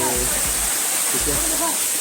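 Constant roaring rush of the Ashok Jhar waterfall in Odisha fills the clip, with a voice talking faintly underneath.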